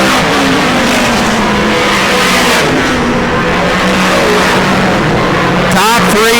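Dirt modified race cars roar around Airborne Speedway in Plattsburgh, NY, a loud, sustained engine drone rising and falling as cars pass, with a commentator talking over it throughout.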